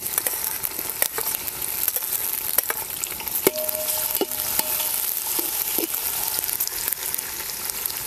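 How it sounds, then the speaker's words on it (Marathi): Tomatoes frying in hot oil with onions for a fish curry, a continuous soft sizzle broken by several sharp scrapes and taps of a spoon stirring the pan, with no voices. "यातच मी आता टोमॅटो टाकून घ्यायचे. टोमॅटो पण चांगला असा तेलात भाजून घ्यायचा."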